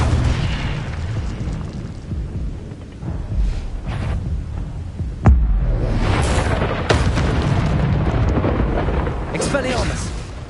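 Incendio fire spell blasts in Hogwarts Legacy, loud roaring bursts and whooshing flames with a sharp crack midway, followed by sustained rumbling fire, while a voice shouts over it.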